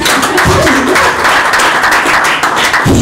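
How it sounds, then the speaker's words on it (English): A live audience at an embassy certificate-awarding ceremony breaks into sustained applause, dense overlapping clapping filling the room at steady loudness throughout. "Can you clap for that?"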